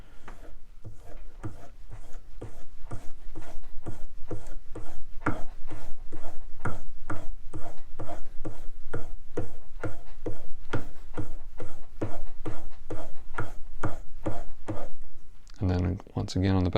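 A chisel edge being honed without compound, rendered as a close, steady run of about forty even rubbing strokes at roughly two to three per second, with a voice speaking briefly at the very end.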